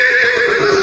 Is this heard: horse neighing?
yes